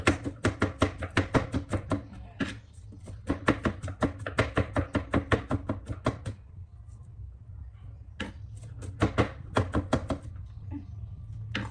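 Garlic and onion chopped on a board with a knife, rapid rhythmic chops in several bursts with short pauses between, loud and close, no talking.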